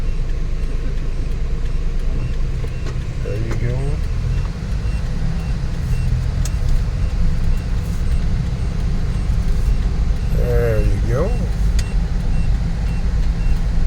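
Low engine and road rumble from a car with a freshly overhauled engine, driven slowly through light traffic. It stays steady throughout, with passing vehicle noise, and people talk over it.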